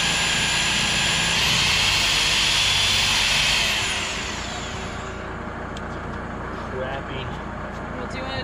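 A power drill bores into a radiant-heated concrete slab, a loud sustained high whine for about four seconds that then drops to a quieter steady running drone.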